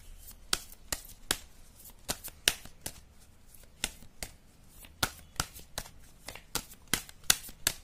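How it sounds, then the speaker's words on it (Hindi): Tarot cards being shuffled and drawn, a series of crisp, close snapping riffles in irregular bursts against a quiet background. "चलो एक कार्ड निकाल लेते हैं हम। एक कार्ड निकालेंगे ताकि हमें पता लग सके।"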